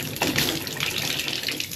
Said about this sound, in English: Just pull the water through.